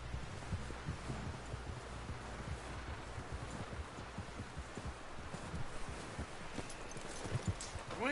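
Horse hooves plod in a steady clip-clop under a dense ambient bed in Red Dead Redemption 2, close and moderately loud, with no clear talking.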